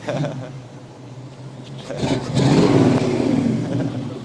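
A Ford Mustang GT350H and other cars arrive, one engine revving up and swelling in loudness partway through against a rumbling outdoor background.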